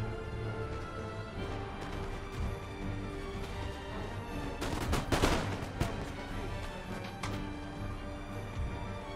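Camel-mounted gunners fire a musket volley in the strategy game Empire: Total War, a crackling burst of shots midway over a continuous bed of orchestral game music.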